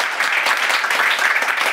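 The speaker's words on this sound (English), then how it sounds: "Big round of applause, guys." A studio audience bursts into dense, steady applause, a loud continuous clatter of many hands throughout.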